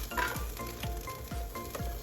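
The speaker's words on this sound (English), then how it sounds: "I crumbled the tofu up, and I'm gonna go ahead and let that cook in here as well." Crumbled tofu sizzles in a hot pan. The frying hiss is quiet and steady, and a utensil stirs in a regular rhythm, giving four or five soft scraping strokes.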